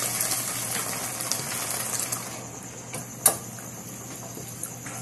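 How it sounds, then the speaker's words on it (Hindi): A little water is poured into a pan of chilli and soy sauce, giving a steady soft gush of liquid over a low hum, with one sharp clink partway through. "अब हम इसमें थोड़ा सा पानी डालेंगे।"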